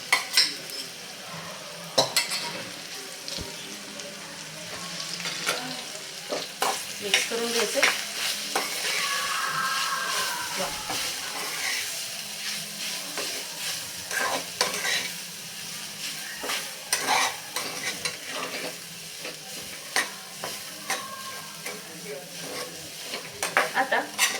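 Steady sizzling of dal frying in oil, with repeated scraping and clinks of a spoon stirring in a pan, close up and mostly without talk.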